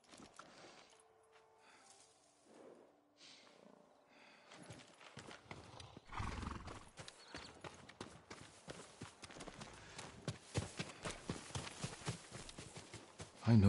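A farm horse's hooves clip-clop at a steady walking rhythm in the video game Ghost of Tsushima, growing louder and closer, with faint background ambience and no talking.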